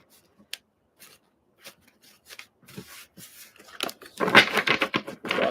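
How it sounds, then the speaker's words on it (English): Playing cards roughly shuffled by hand during a live card reading, starting with sparse faint taps and rubs, then building into louder, denser riffling and scraping near the end. "Rough shuffle."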